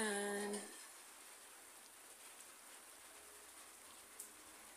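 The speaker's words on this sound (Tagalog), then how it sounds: "Umulan na dito sa lugar ko." Steady rain falling on a rainy morning in Saudi Arabia, a faint soft hiss that continues alone after a brief tonal sound at the start fades out.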